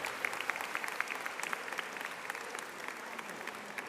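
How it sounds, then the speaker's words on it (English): Applause from a modest crowd at a school district opening day ceremony, a steady patter of clapping hands that gradually thins out, heard from within the room. "Please give another round of applause"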